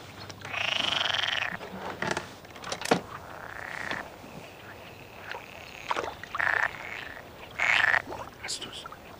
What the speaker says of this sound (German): Wie wär's zur Abwechslung mal mit ein bisschen Gequake, Frösche?